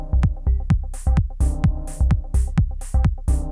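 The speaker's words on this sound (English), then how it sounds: "we can introduce this other hi-hat instead of our previous hat" Techno beat programmed on a Korg Volca Sample: punchy kick hits in a steady loop with a swapped-in alternate hi-hat sample ticking crisply between them, loud and dry with no voices.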